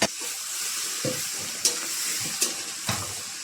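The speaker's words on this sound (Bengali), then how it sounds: "এখন আমি মাংসটা দিয়ে দেবো।" Marinated duck meat, tossed into hot oil for Chinese duck tehari, sizzles steadily in the pan, with several sharp crackling pops and stirring scrapes breaking through the hiss.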